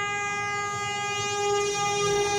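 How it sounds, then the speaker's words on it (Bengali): The Howrah–Patna Vande Bharat express sounds a long, steady, loud horn as it enters at speed, with a low rumble beneath on a line being built on the Bankura–Howrah route. "আর ইতিমধ্যে আপনি দেখতে পাচ্ছেন বন্দে ভারত ঢুকছে"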